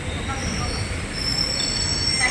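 A Chennai Central to Tirupati MEMU local fast train runs along the track, its wheels squealing steadily on the rails under a continuous rumbling roll, close and fairly loud throughout.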